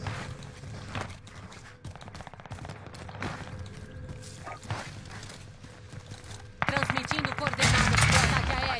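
Weapon fire rattles out in a video game in bursts of rapid shots across the clip, growing louder and denser toward the end, with a voice heard talking over it.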